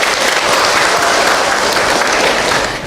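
Congregation at an Islamic religious lecture bursts into loud, dense applause, many hands clapping continuously and close for nearly three seconds before easing slightly at the end.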